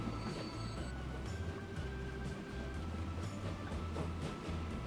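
Trains in the Transport Fever video game rumble steadily, with low engine drone, faint clicks of wheels and thin squealing tones layered over a quiet, continuous background.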